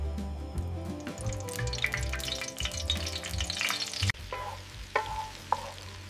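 Food fries in hot sunflower oil with dense, close sizzling and crackling, stirring scrapes and clatter throughout, shifting to lighter spitting and a few sharp pops near the end.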